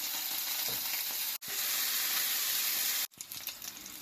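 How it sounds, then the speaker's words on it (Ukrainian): Eggs with pork belly sizzle gently and steadily in a pan over low heat, a soft continuous hiss with a couple of abrupt breaks. "Все ми смажимо на маленькому вогні."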